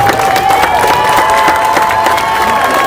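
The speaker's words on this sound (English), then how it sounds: "Give a round of applause for TOC-Altadena." Crowd applause and cheering fill the air at a youth baseball tournament championship ceremony, with dense, steady clapping and whoops that stay loud for the whole stretch.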